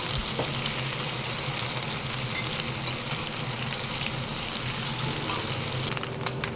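Egg pasta being stirred in a frying pan, a steady dense sizzle running throughout with faint scraping, close and fairly loud with no talking.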